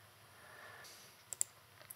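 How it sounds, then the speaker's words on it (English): A few quick, faint mouse clicks land near the end of a quiet stretch while selecting a device in the Microsoft Intune endpoint console. "And then we'll click into this device."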